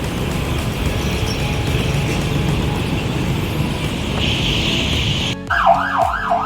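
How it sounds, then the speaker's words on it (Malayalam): An ambulance siren on a street in Khon Kaen wails in a rapid rising-and-falling pattern, bursting in loud and close over steady traffic noise near the end. "ഇവിടുത്തെ ആംബുലൻസ് എന്തെല്ലാം വൃത്തിയുള്ള ആംബുലൻസ് ആണെന്ന്"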